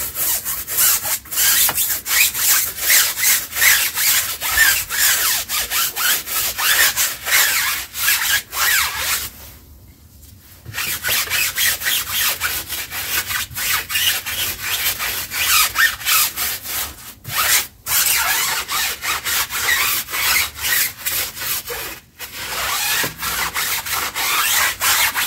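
Brush scrubbing a car wheel rim during cleaning, a dense, continuous bristly scratching with rapid back-and-forth strokes, close and steady, broken by a few short pauses.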